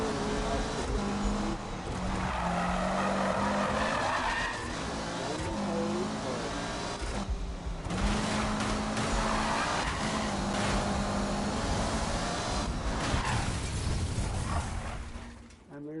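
A Lamborghini race car in Need for Speed 2015 skids and revs, with repeated tire squeals and engine surges over a continuous loud roar, joined by game sound effects.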